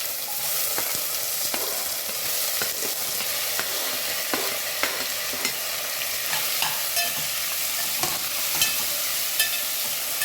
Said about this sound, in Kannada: ಈಗ ಈ ಪೈನಾಪಲ್ ಕಟ್ ಮಾಡಿದ್ದೀವಲ್ಲ ಅದನ್ನ ಹಾಕ್ತೀನಿ.